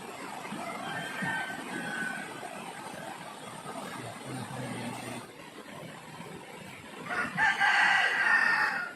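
A rooster crows nearby, a drawn-out call toward the end, over a steady outdoor background with faint earlier crowing.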